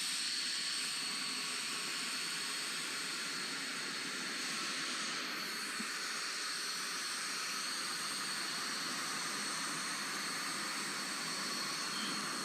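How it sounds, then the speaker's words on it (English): Steady broadband jet roar and hiss from the Boom XB-1 supersonic demonstrator's engines running on the ground before shutdown, a constant distant-sounding whine with no voices. "The engines are going to be shutting down on XB-1 for the final time"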